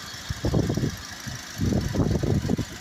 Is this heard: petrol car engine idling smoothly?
yes